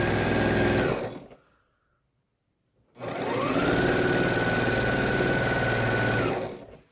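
Domestic sewing machine quilting a small project, running in a fast steady whir for about a second, pausing for two seconds, then running again for about three and a half seconds, close and loud.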